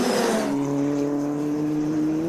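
A Formula Regional single-seater race car on track during Middle East Championship qualifying, its engine note loud and close as it howls past and fades into a steady high whine.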